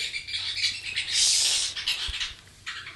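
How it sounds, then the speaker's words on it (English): A bird close by lets out a run of shrill, raspy squawks and chirps, fairly loud and nearly continuous. "if you guys are hearing my bird, he's squawking a little too much"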